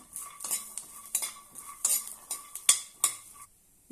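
About ten peanuts-and-garlic-clove stirs scrape and clink a spoon against a dry roasting pan in an irregular rhythm, close and crisp, with faint sizzling between strokes, falling silent at the end.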